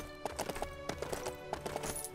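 Horse hooves clip-clop in the Lego The Hobbit video game, a quick, rhythmic run of hoofbeats over a faint game music bed.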